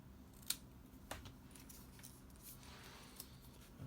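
Scissors cut paper for a stamped card, with a few faint, scattered snips and soft paper rustles close by in a quiet room.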